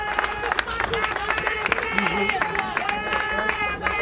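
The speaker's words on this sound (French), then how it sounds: "On applaudit très très fort, s'il vous plaît. On applaudit bien fort." Audience applause at a community celebration, a busy patter of clapping mixed with crowd chatter and voices, with music-like tones running underneath throughout.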